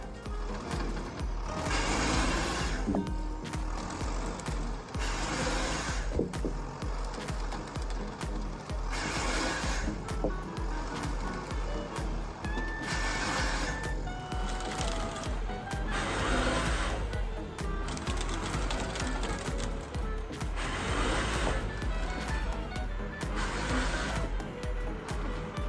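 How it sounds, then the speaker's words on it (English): An Advanced Processor 2 timber processor works through giant trees deep in a jungle forest, giving a loud, continuous mechanical grinding and clattering with repeated surges and ratcheting knocks throughout, no voices. "Explore the jungle landscape with the Advanced Processor 2, tasked with processing the giant trees deep in the heart of the forest."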